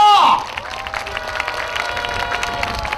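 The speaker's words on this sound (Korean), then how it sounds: "큰 박수를 부탁드리겠습니다." A brief shouted voice gives way to a crowd clapping and cheering steadily, a dense wash of applause at an anti-nuclear-plant rally.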